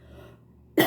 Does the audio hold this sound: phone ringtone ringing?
no